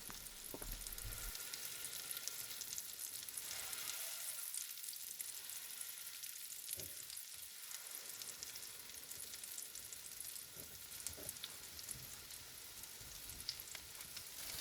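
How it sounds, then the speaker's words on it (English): Sweet potato rosti frying in a pan, a soft continuous sizzle and crackle heard close up, steady throughout with small pops and no talking. "It takes a decent amount of time to fry the sweet potato rosti so that they're crispy on the outside."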